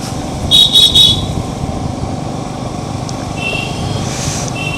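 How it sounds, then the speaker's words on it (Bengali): A motorcycle engine drones steadily in traffic, with a couple of short horn toots early on and more honking later, heard from the pillion seat. "তো এখন আমার দিদি বাইক চালাচ্ছে"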